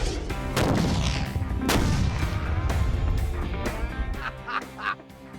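A C4 charge detonates outdoors, producing heavy, booming blasts with sharp broadband onsets followed by rumbling, rolling decay.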